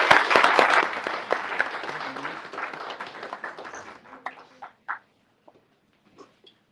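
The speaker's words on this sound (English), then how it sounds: "Now the claps, please" Conference audience in Geneva applauding, a burst of clapping that starts full and steadily thins out to a few scattered claps before fading to silence.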